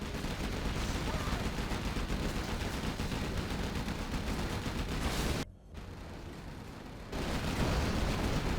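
Chain gun GATs in a desert strategy video game rattle off continuous rapid automatic fire, dense and loud, breaking off for a moment into quieter fire before the full barrage resumes.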